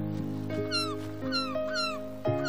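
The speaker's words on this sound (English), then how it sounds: "Birds! That's right. They're seagulls." Seagulls cry in downward-sweeping calls several times, heard over a steady low musical drone.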